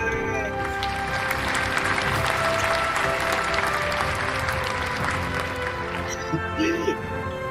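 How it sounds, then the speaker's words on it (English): A large crowd applauds and cheers for the president at a State of the Nation Address, steady dense clapping heard somewhat distant with voices mixed into the roar. "Let's all give a cheer to our President of the Philippines, Bongbong Jr."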